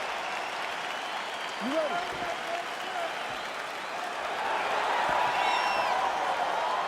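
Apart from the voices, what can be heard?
crowd cheering and applauding in UFC 4 video game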